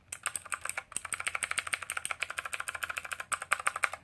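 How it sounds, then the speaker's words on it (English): Typing on a Motospeed Inflictor CK104 RGB mechanical keyboard, heard close up as a rapid, uneven run of sharp clacky keystrokes with brief gaps, alone and fairly quiet. "Does have a very clacky type of sound"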